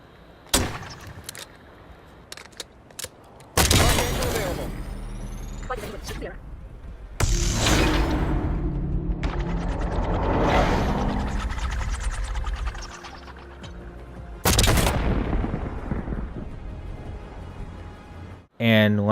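Gunfire from the video game Black Ops 6 on the Vorkuta map, with repeated loud bursts of weapon fire and jump movement sounds layered over game effects, some sharp cracks standing out near the end.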